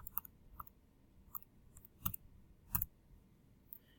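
Plastic keys on a graphing calculator pressed one at a time, giving sparse, sharp, quiet clicks at irregular intervals in a quiet room.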